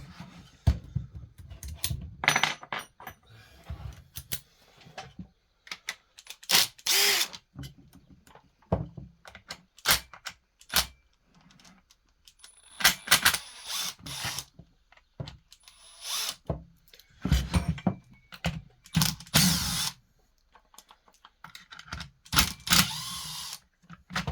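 Power tool driving out the starter assembly screws on a Husqvarna 450 chainsaw, with repeated short bursts of whirring interspersed with clicks, clanks and handling knocks in a close workshop setting.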